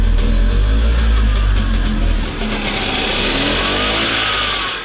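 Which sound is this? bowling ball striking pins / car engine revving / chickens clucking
car engine revving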